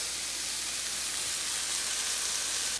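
A steak sears in a hot pan on a stovetop, giving a steady, close, dense sizzling hiss that holds evenly throughout with no voices.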